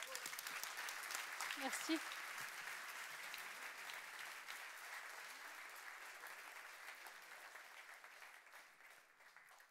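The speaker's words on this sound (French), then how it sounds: "Merci d'accueillir avec applaudissements" Audience applause welcomes a speaker at a design lecture, a steady, full round of clapping that gradually tapers off, with a brief spoken word early on.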